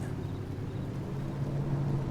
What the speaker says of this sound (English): this lady on the red tractor turning to the right